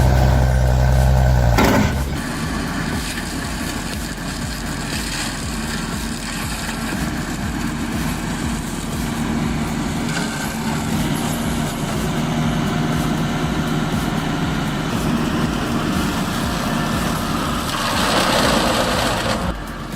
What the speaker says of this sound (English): The engine tone doesn't scream, it growls steady like it's built to keep going all day without fuss.